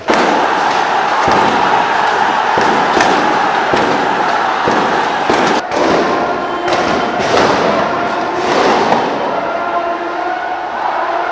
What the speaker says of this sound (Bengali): মুহুর্মুহ গুলির শব্দে কেঁপে ওঠে পুরো মিরপুর এলাকা